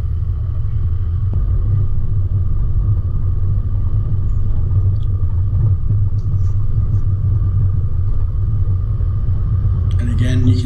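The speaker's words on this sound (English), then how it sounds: "Just choose your line and the vehicle will hold the line and drive up it." A four-wheel-drive vehicle climbs a firm, rocky mountain track near Mt Pinnibar, with a loud, steady low engine rumble and drone throughout and a faint rattle near the end.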